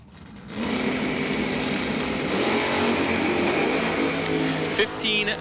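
A Thunderbird and a 1998 Chevy truck roll out for a drag race at Numidia Dragway, their engines droning steadily and loud over wide broadband noise, with an announcer talking over the top.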